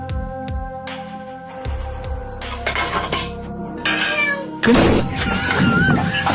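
A person imitating a cat meows in a rising, wavering voice over clinking dishes and background hum, the calls growing louder toward the end.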